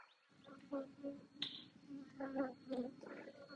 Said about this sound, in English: these bees didn't explode out of the box on me